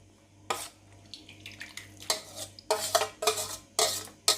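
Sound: grated raw mango being transferred into a kadhai

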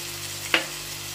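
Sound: spices frying and being stirred in a pan

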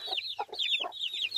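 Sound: bantam hen clucking

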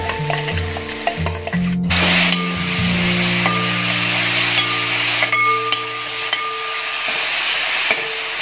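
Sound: frying onions, ginger and curry leaves for squid roast

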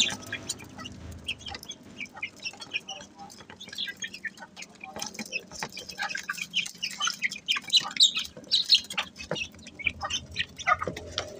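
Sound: chickens clucking

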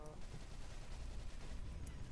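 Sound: gunfire in the video game DeadZone Shadowgun

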